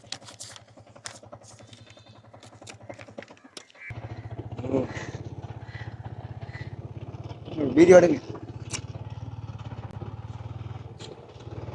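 A motorbike engine idles close by with a low, steady rumble that starts partway through, while people chat over it and a brief louder burst swells near the end.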